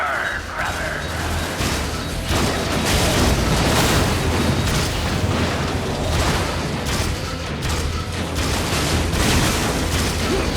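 Heavy missile explosions and rumbling booms in the PS3 game Metal Gear Solid 4, loud and sustained with repeated bursts layered over one another.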